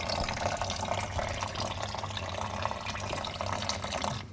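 Water pours steadily from a kitchen tap beside an A.O. Smith R1600BN3 water purifier, a constant broadband rush with no speech, cut off abruptly at the end.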